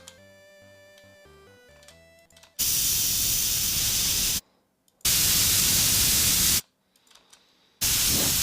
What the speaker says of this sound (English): for all of these sounds we are going to be using our computer duster sound effect